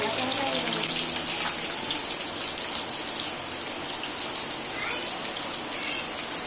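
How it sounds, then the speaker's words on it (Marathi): Steady rain falls in a continuous dense hiss, close and fairly loud, with no pauses throughout. "पाऊस दाखवते तुम्हाला बघा"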